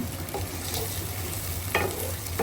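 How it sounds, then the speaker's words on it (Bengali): Country chicken meat stirred with garam masala in a pan for biryani, a close, steady frying hiss with a few sharper scrapes of the spoon against the pan. "মাংসগুলো নেড়ে নিচ্ছি গরম মশলার সাথে"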